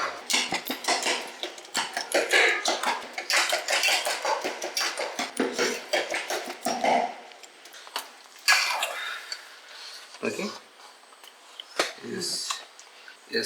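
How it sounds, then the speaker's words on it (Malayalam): Cooked tapioca for kappa biriyani being mashed in a pot: a run of close clinking and knocking strikes of a utensil against metal, thinning out into a few separate taps toward the end. "ഇതിൻ്റെ അകത്ത് ഉടയാത്ത കപ്പയൊക്കെ നമുക്കൊന്ന് കുത്തി കുത്തി ഒന്ന് ഉടച്ചു കൊടുക്കാം"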